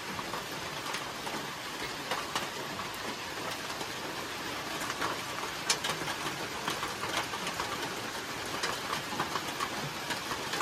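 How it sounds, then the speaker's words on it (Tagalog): Rain falls steadily on a small farm, an even, continuous hiss of patter that stays constant throughout with no talk over it. "naabutan po tayo ng ulan"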